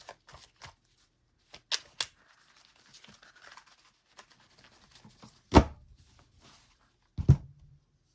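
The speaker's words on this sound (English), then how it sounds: "If one falls out before I'm done shuffling," Tarot cards are shuffled in short bursts of crisp riffles and taps, with two louder slaps near the end; no talking.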